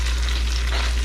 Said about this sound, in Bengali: এই তেলের মধ্যে আমি দিয়ে দেবো হলো জিঞ্জার